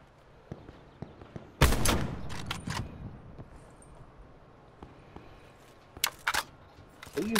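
Gunfire in a shooting video game: a loud burst of shots early on, scattered quieter reports, then another cluster of sharp shots near the end, with no talk.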